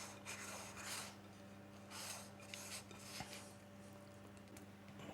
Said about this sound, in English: I got some soft butter here, and I'm just gonna rub it all over the pan on the side.